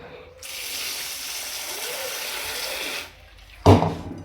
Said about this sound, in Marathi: ही डाळ भिजू घालायच्या अगोदरच आपल्याला स्वच्छ 2-3 पाण्याने धुवून घ्यायची